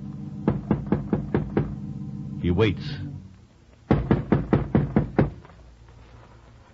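Knocking on the front door of a seemingly deserted house in an old western radio drama: a crisp run of about six raps, a narrator's brief line, then a second run of about six knocks.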